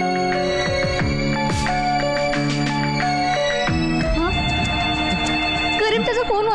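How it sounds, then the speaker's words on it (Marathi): A mobile phone ringtone plays a repeating melodic tune, loud and clear, with a voice speaking briefly partway through. "त्याचा फोन वाजतोय"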